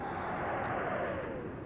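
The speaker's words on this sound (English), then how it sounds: "Secondary explosion" Secondary explosion aboard a warship in the Atlantic Fleet naval game, heard as a dense, steady roar of blast noise that holds loud and unbroken for the whole moment.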